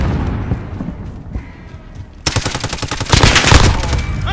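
Gunfire in Call of Duty Modern Warfare 2019: distant scattered shots at first, then sudden loud rapid automatic bursts nearby, rattling steadily and intensifying toward the end.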